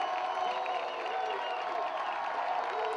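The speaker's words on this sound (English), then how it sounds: "Crowd getting loud here on homecoming." Homecoming crowd at a college football game in a stadium, Nebraska Wesleyan versus Concordia, roaring and cheering steadily throughout with scattered applause, a dense, far-off wall of sound.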